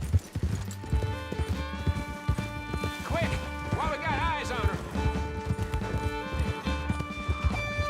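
Horse hooves gallop in a steady, rapid clip-clop during a Red Dead Redemption 2 chase, with a whinny and game music underneath and voices talking over the hoofbeats.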